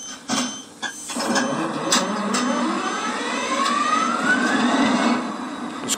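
Brushless motor of a 5 inch narrow gauge maintenance train running close by, a steady loud hum with a rising whine that climbs in pitch as it speeds up, after a few short knocks at the start.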